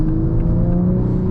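A Toyota MK5 Supra accelerating on low-end torque, a smooth steady engine drone and whir at close range, loud and unbroken with no talk.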